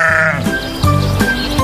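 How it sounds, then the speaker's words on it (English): A sheep bleats loudly and close, a couple of wavering baas in quick succession. "S is for sheep."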